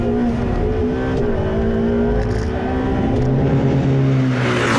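Ferrari 488 Pista on a race track, its engine roaring loud and close under hard acceleration with a rising, sustained tone and wind noise.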